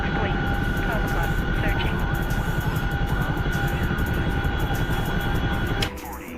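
A fixed-wing aircraft in a military video game set in Syria drones steadily and loudly with a constant engine whine, then drops away sharply near the end, while voices talk over it.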